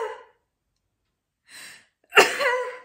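A single sharp human sneeze, preceded by a faint breathy intake and a soft inhale, sounding close and loud in an otherwise quiet room.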